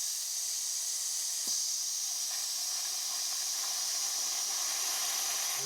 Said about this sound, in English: the drain valve, I'm gonna turn it on slowly, let this air come out